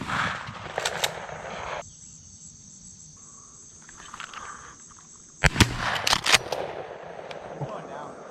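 A shotgun fired at a dove during a public land dove hunt in North Carolina, with sharp loud reports near the start and a burst of blasts later, over steady cricket and insect chirping outdoors.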